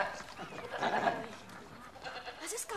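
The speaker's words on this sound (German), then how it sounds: "Das ist gar kein Gangster! Das ist nur ein Ziegenbock!" A billy goat bleats in a German radio play, its wavering, nasal cries rising in the middle of the clip over a busy staged background, fairly close and clear.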